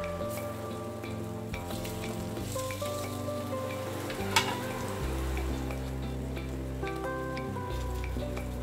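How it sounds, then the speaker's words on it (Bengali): Cabbage cutlets deep-fry in hot oil over a high flame, a continuous bubbling sizzle heard close up beneath steady background music. "কেটে রাখা বাঁধাকপির কাটলেটগুলোকে এবার লাল লাল করে 2 পিঠ উল্টে ভালো করে কড়া করে ভেজে নিতে হবে।"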